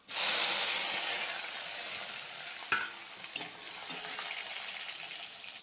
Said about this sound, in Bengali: টমেটো কুচিটা ঢেলে দেবো